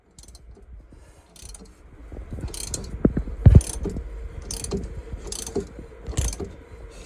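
A mechanical puller is tightened against a yacht's propeller shaft to force the transmission coupling off in a cramped engine compartment, giving repeated metallic clicks and ratcheting creaks with thuds, close and uneven, without speech.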